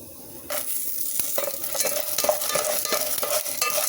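Beetroot chutney ingredients and curry leaves roast in a pan over medium heat, with a continuous close sizzle and repeated scraping stir strokes that start abruptly after a quieter moment.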